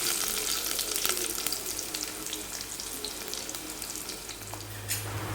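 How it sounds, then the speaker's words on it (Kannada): Onions sizzle loudly in hot coconut oil, a dense continuous crackling hiss close up with small pops throughout and no voices. "ತೆಂಗಿನ ಎಣ್ಣೆ ಬಿಸಿ ಆದಮೇಲೆ ಇದಕ್ಕೆ ಈರುಳ್ಳಿಯನ್ನು ಹಾಕಿದ್ದೇವೆ"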